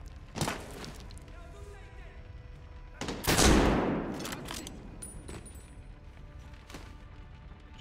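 Bursts of machine gun fire and heavy gunshots crack out in Medal of Honor: Warfighter, with one loud, sustained volley in the middle that decays into echoing rumble. A voice talks under the shooting.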